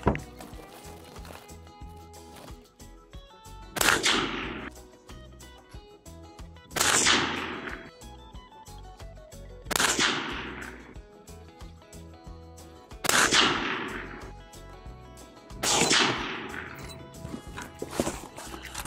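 Five loud rifle shots from a Bravo Company MK2 RECCE 16 in .223 firing Barnes TSX all-copper bullets, each a sharp crack with a fading echo, spaced about three seconds apart at a shooting range.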